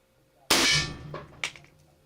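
A single sharp metallic clang as a .51 caliber HP-Max air pistol pellet strikes a metal target, followed by a fading ring and a second smaller clatter, close and loud against a quiet background.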